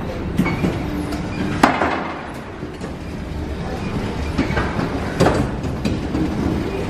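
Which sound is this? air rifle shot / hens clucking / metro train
metro train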